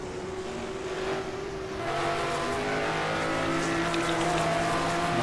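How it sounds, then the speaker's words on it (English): Ferrari Can-Am race car from 1971 at Donnybrooke, its engine droning and rising in pitch as it runs close behind another car, a steady growl that swells louder partway through with no talk. "the sound of that should be the Ferrari of Yves Placer running close behind"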